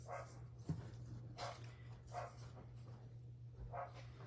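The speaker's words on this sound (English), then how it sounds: "Now they get to hear him barking." A dog barks several times at irregular intervals, moderately distant and fairly faint, over a steady low electrical hum.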